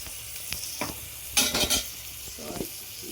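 Green chillies and curry leaves frying in hot oil, a steady sizzle with a few scraping stirs and one louder burst of spattering midway, close and without talk.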